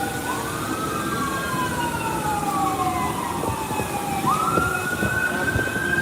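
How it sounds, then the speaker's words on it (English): Emergency vehicle sirens wail in Albuquerque, a distant rising and falling tone that sweeps up and down twice over a low rumble of background noise. "There's a crap ton of sirens out here."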